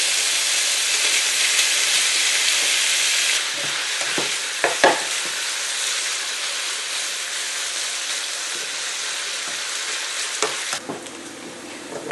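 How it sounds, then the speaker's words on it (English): Bacon sizzles loudly in a pan over high heat, a dense continuous hiss with a few clanks of stirring midway, the frying dropping slightly in intensity toward the end, no voices. "Remain on high heat and we will cook the bacon until it is golden brown."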